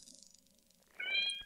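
A pet cat gives a single short, clear meow near the end of an otherwise quiet moment, close and moderately loud.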